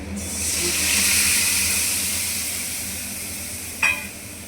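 Masala spices fry in a hot pan with oil for a fish-roe fritter curry, giving a steady close sizzling hiss that slowly eases, broken near the end by one brief scraping stir.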